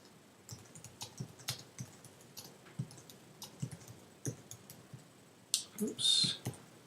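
Light clicking keystrokes tap out a file name on a computer keyboard, quiet and irregular, with a few brief louder rustles near the end.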